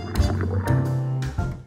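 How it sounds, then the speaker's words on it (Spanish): Hot water poured over ground coffee in a cloth filter, a close gurgling, splashing stream of liquid that runs steadily with a few brief surges. "Añadimos agua caliente."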